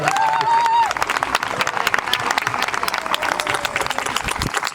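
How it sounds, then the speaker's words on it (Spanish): Audience applause at a Galician singing contest show, dense clapping from a crowd that starts strong after a brief tonal sound at the very start and stays steady to the end. "Un aplauso para Loli, por favor."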